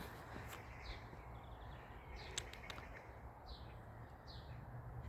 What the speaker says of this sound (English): I just love the sound of the birds. It's like a dove.